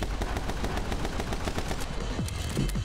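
Rapid video game gunfire from My Friend Pedro, bullets pushing a barrel along: dense repeated sharp shots in a fast rhythm throughout, with a few ricochet-like whines near the end.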